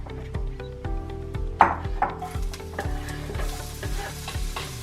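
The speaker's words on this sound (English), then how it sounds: "I'm adding a little bit of vegetable oil. And we're going to cook these onions." Onions sizzling and frying in vegetable oil in a soup pot, a steady crackling hiss broken by several sharp stirring clatters and knocks against the pot, close and fairly loud, with no talking.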